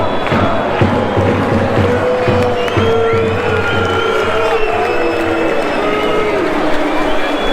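Football stadium crowd at half time of IFK Göteborg against Halmstads BK, the 2025 Allsvenskan home opener: a loud, dense wash of voices with whistles, shouts and scattered cheers, with nearby talk mixed into the roar.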